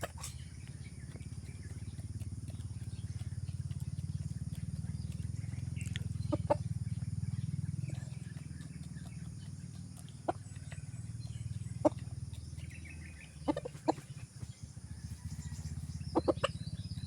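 Farm chickens cluck and peck after feeding, with scattered short clucks and clicks over a low steady rumble, moderately near and fairly faint.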